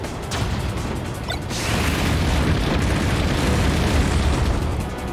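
Bazooka blasts in Super Smash Bros. Brawl: a loud booming burst near the start, with sharp crackling pops, then a sustained, dense roar of explosive noise that swells and holds until the end.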